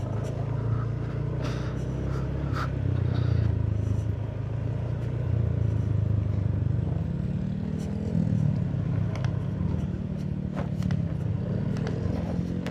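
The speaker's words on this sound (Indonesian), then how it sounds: "Nggak enaknya motor kecil mah lewat jalan beginian nih." Honda BeAT small scooter-type motorcycle ridden over a rough, landslide-damaged road, its engine droning steadily and close with rumbling wind and road noise, shifting slightly in pitch and punctuated by faint knocks and rattles.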